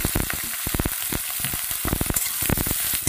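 Eggplant fries in hot oil in a wok, giving a close, loud, continuous crackling sizzle with dense popping bursts and no voices.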